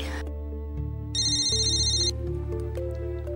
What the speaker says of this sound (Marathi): आशू म्हणजे अश्विनीचा फोन होता ना?